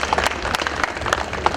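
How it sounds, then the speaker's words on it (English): An audience at an engineering college alumni reunion applauds an alumnus, steady clapping from many hands at moderate distance, short and unbroken. "So round of applause for him also."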